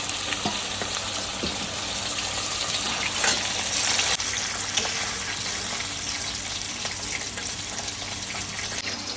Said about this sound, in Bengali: এবার মাছটায় জল দিয়ে দেবো এই মশলার জলের মধ্যেই জল দিয়ে দেবো